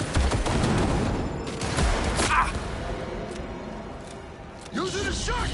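Shotgun blasts go off in the video game Cyberpunk 2077: Phantom Liberty amid dense combat noise, with a few loud bursts early on and people talking over the action.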